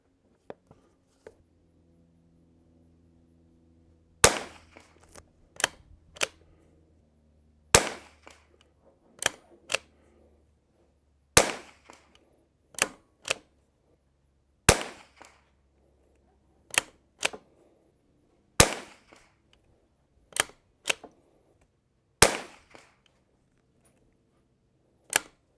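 Sharp rimfire rifle reports from an Anschutz 1727F or Vudoo firing Eley Ultra Gen 2 ammunition ring out one at a time at a steady, deliberate pace, each crack loud and close with a brief tail.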